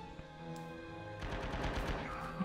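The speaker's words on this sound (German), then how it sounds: "Das war ein Schuss von links." Rapid gunfire from the World War II shooter game Red Orchestra 2 in multiplayer on a Guadalcanal map: after a quieter stretch with a single shot, dense overlapping bursts crackle continuously, loud and close, with no talk.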